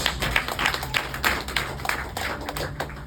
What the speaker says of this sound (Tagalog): Palakpakan niyo po ang salita ng Diyos.